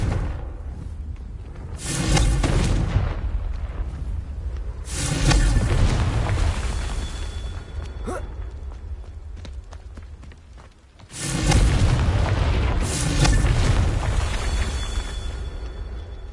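Confringo fire spells cast in Hogwarts Legacy: three loud explosive bursts a few seconds apart, each a booming roar with a trailing rumble, separated by quieter ambient stretches and faint movement sounds.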